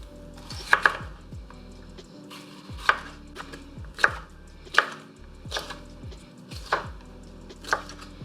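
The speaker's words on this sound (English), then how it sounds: "We're going to chop up some red bell pepper." Knife chopping red bell pepper on a cutting board, about eight sharp, evenly spaced thunks with quieter scraping between them, close and clear with no talking.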